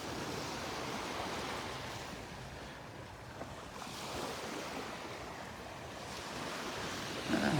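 Small waves washing onto a beach at Delnor-Wiggins Pass State Park, a steady soft surf wash with gentle swells, mixed with light wind noise on the microphone and no voices.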